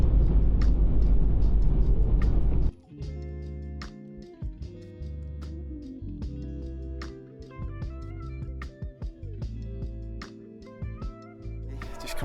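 A car coming off a toll motorway near Imola, Italy: a loud engine and road roar at first, then a sudden drop to a quieter idle and low rumbling with tonal whines and shifting gears.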